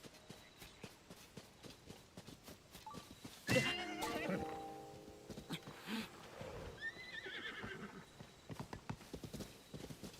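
Horse hooves clip-clop and a horse neighs in a Zelda video game, soft steady hoofbeats joined by a sudden loud whinny midway, followed by lighter rhythmic steps.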